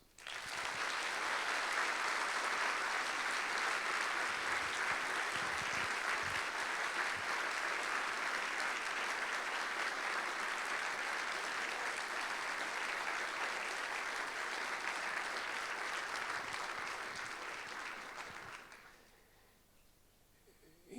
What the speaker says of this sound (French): je vous propose non pas des gouttelettes d'applaudissements, mais un torrent d'applaudissements.